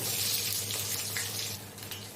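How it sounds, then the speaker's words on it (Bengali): Potatoes are dropped into hot oil after frying fish, giving a loud, dense continuous sizzle that softens slightly toward the end, with no voices. "তেলে আলুগুলো দিয়ে দেবো,"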